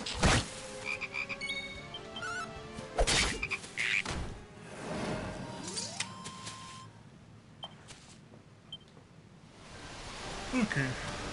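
A frog croaks in the Dragon Quest XI video game, with several loud, bursting croaks scattered among other game effects and clicks, quieting toward the middle before a final burst at the end.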